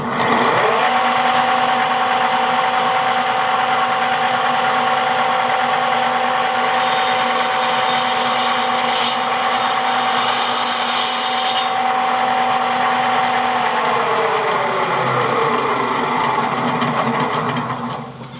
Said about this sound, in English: Access to this bench saw has been a real asset to this project.